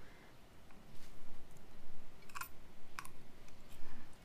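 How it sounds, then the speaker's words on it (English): A Crocodile punch tool snaps through a length of ribbon, giving two sharp, close clicks in fairly quiet surroundings, with no talk. "I'm going to use my Crocodile to punch the hole through the ribbon"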